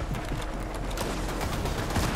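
Dense gunfire from a Fortnite trio cash cup match, a steady rattle of overlapping shots filling the whole stretch at a constant loud level.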